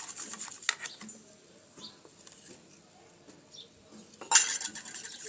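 Flour batter for dhokli being mixed in a bowl, with soft scraping and clinking of utensil against the bowl in light irregular taps, close and fairly quiet, a brighter clatter near the end.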